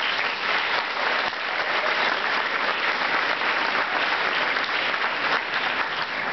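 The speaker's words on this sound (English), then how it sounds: "Round of applause for yourselves." An eighth grade class at a North Brandywine Middle School morning ceremony applauds itself: dense, steady clapping from a large crowd, sustained and even for several seconds without a break.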